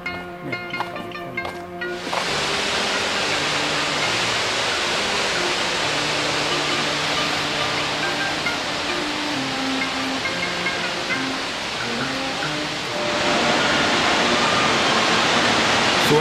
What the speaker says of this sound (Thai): น้ำตกลงไปลึกด้วย